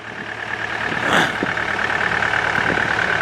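The 66 hp Yanmar diesel in a 2014 Takeuchi TB285 pre-emission excavator runs with a steady, moderately loud rumble and a brief louder swell partway through.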